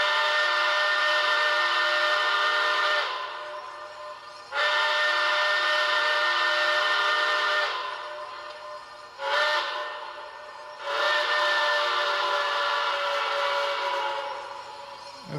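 Grade crossing whistle from an MTH HO scale cab forward AC-6 steam locomotive with Proto 3.0 sound: two long blasts, a short one, then a final long blast, loud and close, pitched like a steam chime.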